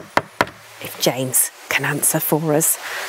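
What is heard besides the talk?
knocking on a grand wooden door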